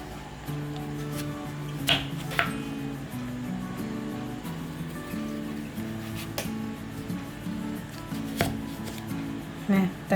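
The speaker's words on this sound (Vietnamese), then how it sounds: "bí là mình cũng sẽ cắt ra miếng lát như vậy nè các bạn" A knife cuts through a squash (bí rợ) on a board in a home kitchen, slicing it into thin pieces with a few sharp clicks over low background noise.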